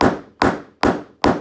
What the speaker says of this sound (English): hammering it as flat as possible with the hammer